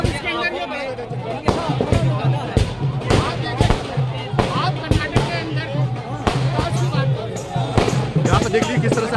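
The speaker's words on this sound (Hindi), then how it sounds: "भरपूर मात्रा में यहाँ पर पटाखे भी छोड़े जा रहे हैं, जबरदस्त आतिशबाजी की जा रही है" Repeated sharp bangs of firecrackers and fireworks going off at irregular intervals amid a bustling crowd and people talking, at an election victory celebration outside a party head office in Delhi.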